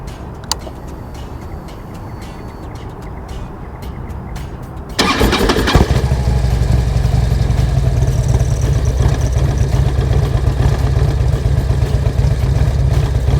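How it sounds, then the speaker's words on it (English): A motorcycle sitting in neutral cranks briefly, then its engine catches and settles into a steady, loud idle that continues without a break for the rest of the recording. "now I'm gonna go ahead and turn on my bike"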